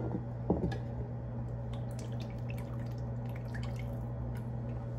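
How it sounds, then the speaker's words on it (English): Cooking grease poured from one pot into another on a home stove: a soft splash at the start, then faint, sparse drips and trickling over a low steady kitchen hum. "So I'm just gonna pour this grease that I already have in this pot inside of this pot."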